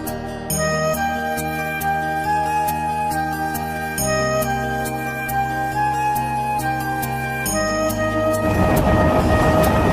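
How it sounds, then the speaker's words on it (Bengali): A loud, steady rumble of a moving passenger train bound for Puri, India, with sharp periodic clicks, joined near the end by a rising burst of rushing noise. "তো এখন ট্রেন জার্নি শুরু হবে আমাদের"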